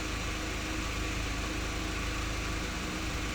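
A 2005 VW Jetta 2.0 engine idles steadily up close with a lean fault, giving a constant low rumble and mechanical hum with no break and no voices.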